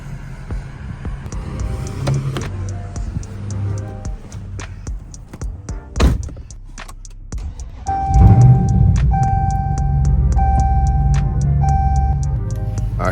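The cabin of a Dodge Charger Scat Pack, with a low engine rumble, the steady ticking of an indicator, a sharp thump, then repeated chimes over a deeper engine hum as the car starts moving.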